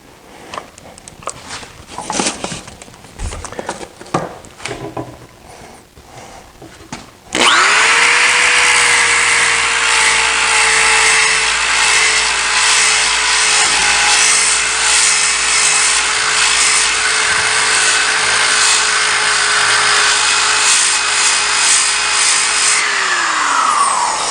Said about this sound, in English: So that's an orbital sander.